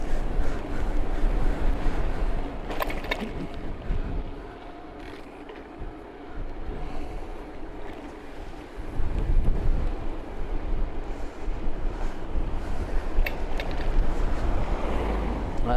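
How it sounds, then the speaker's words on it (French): Gusty wind rises and buffets an outdoor street as rain begins, whipping leaves into swirls, a rough, fluctuating roar with microphone rumble that surges and dips. "Là, on sent le vent qui commence à se soulever, ça commence à envoyer les feuilles là qui commencent à tourbillonner."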